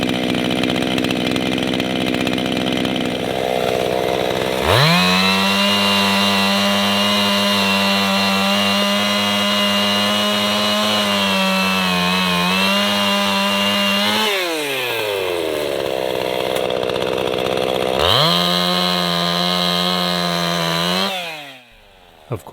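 A chainsaw cuts through a downed tree, idling briefly before revving up into long, steady, loud cuts, dropping back and then surging again for another cut, close by and with no talk.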